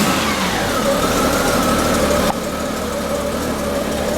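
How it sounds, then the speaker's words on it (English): A motorcycle engine starts and settles into a steady idle, a loud continuous mid-range rumble with a brief shift in tone partway through and no talking. "Go ahead and start it up."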